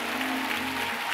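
A church congregation claps together during a Sunday morning service, a short, dense burst of steady applause.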